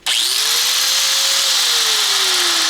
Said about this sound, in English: if you want to plug in a power tool, you can, and here you go